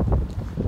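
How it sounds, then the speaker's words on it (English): Strong wind buffets the microphone in an open farm field during soybean ground rolling, a steady low roar with gusty swells and no clear speech over it. "It's really windy."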